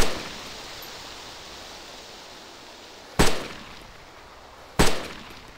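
DayZ gunfire: two sharp, loud single shots a second and a half apart, each with a short echoing tail over a steady hiss of wind.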